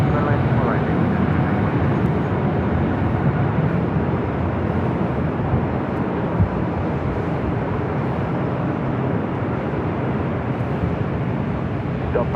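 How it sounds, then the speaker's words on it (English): A Green Air Cargo Boeing 777 freighter takes off from an airport runway, its deep broadband engine roar loud and sustained throughout, with faint radio voices underneath. "Green Air Cargo, 777 freighter rolling down 25 right on the south side."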